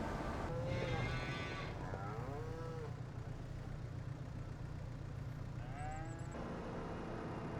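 Cattle in the Farming Simulator 25 video game, heard as several drawn-out moos, two close together early and another later, over a constant low engine-like hum.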